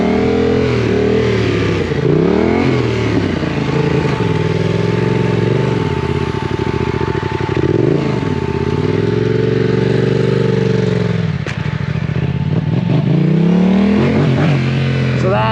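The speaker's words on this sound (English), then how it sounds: "as you dump the clutch, you're rolling into the throttle." A motorcycle engine revs up and down repeatedly at close range while the clutch is popped for a wheelie, its loud pitch rising and falling in several sweeping surges that run without pause through the whole stretch.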